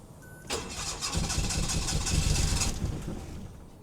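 A poorly running Daihatsu Mira van engine cranks and catches after its fuel system is primed, then runs roughly for a couple of seconds before dropping away, close and fairly loud.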